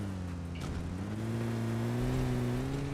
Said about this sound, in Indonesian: Gimana sih suara mobil kegedean nggak sih?